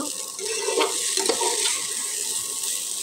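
Potatoes fry in a pan with a steady, close, continuous sizzle, occasionally stirred, with no voices.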